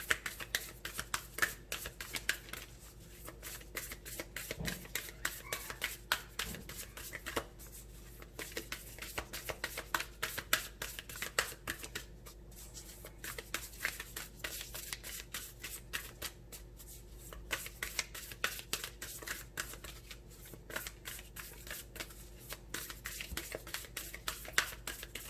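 Tarot cards being shuffled by hand, a quiet close riffling and patter of card edges repeating in uneven bursts throughout.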